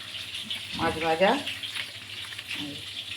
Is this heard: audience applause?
no